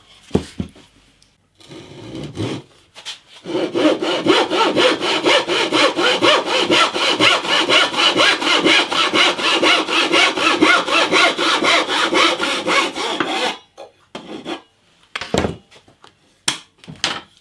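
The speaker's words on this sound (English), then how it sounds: "I need to cut this piece here" Steady back-and-forth sawing through a wooden piece for a hollow-body guitar's internal structure for about ten seconds, a fast even rasp, close by, with a few scrapes and knocks before and after.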